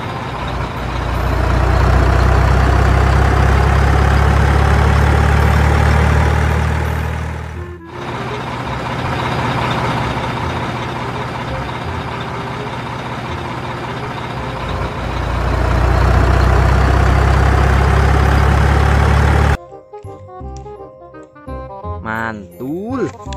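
Sand-hauling tronton dump truck engine idling, a loud steady low rumble that dips briefly partway through, then gives way near the end to a jingly toy-like tune.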